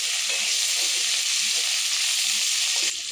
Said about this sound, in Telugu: ఉల్లిపాయల్లో కొద్దిగా సాల్ట్ వేస్తే ఉల్లిపాయలు తొందరగా ఫ్రై అవుతాయి